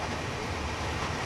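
Crowded passenger train in Mumbai heard from on board, a dense, steady rumble and rattle of the moving carriage throughout a brief moment, no voices.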